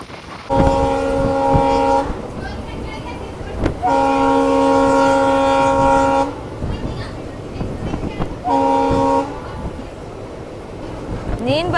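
A diesel locomotive on an Indian rail journey from Bengaluru to Hosapete sounds its horn in three loud, sustained blasts of a few seconds each. Heavy rumbling and rattling of the passing train continue beneath and between the blasts.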